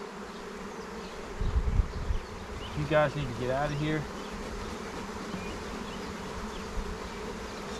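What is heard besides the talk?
honeybees buzzing around a hive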